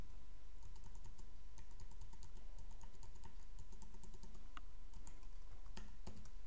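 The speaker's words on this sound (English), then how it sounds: "You'll enter a card number." A credit card number is typed on a computer keyboard as a steady run of light, close key clicks over a constant electrical hum, with a couple of sharper taps near the end and no talking.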